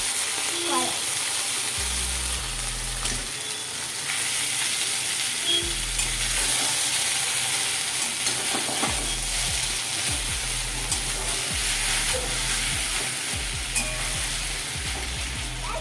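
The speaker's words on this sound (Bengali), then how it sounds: "এবার ম্যাগিটা ফ্রাই করি" Boiled and rinsed Maggi noodles frying in a hot pan, a loud continuous sizzle with repeated scraping and stirring clatters throughout, with speech in the background.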